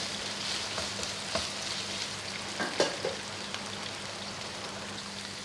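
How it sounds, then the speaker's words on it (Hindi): White onion and ginger frying, a soft steady crackling sizzle like light rain, with a few faint utensil taps and a brief scrape midway. "ये सफ़ेद प्याज से देसी प्याज से ज़रा सी डालेंगे, थोड़ी सी अदरक है। इन सबको फ्राई कर लेंगे अच्छा सा।"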